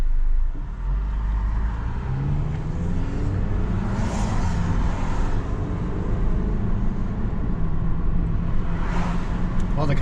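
A tuned-up Dodge Dart drives along with a steady engine rumble and road noise from inside the car, the tone shifting a little as it pulls, with brief passing whooshes.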